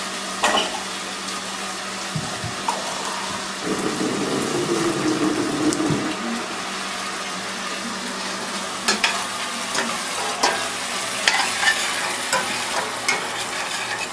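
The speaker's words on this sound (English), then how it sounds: "Now while the green chilies are getting cooked with the onion and garlic" Steady, loud sizzling fills the clip as green chilies fry with onion and garlic in a pan, with occasional stirring clatter and bubbling throughout; no one talks.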